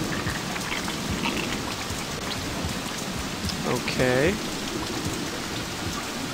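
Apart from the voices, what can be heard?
rain in a video game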